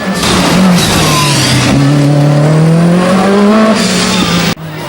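A Group B Audi S4 rally car engine roars close and loud, its pitch rising through gears in repeated sustained pulls before cutting off abruptly near the end.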